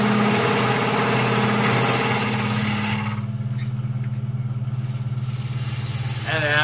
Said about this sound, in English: I'm just trying to rip a bit of wood away.